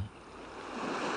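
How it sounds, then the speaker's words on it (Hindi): Sea waves washing onto a shore, faint and brief, a soft broadband wash that swells slightly toward the end, with no voices. "लहरों का टकराना"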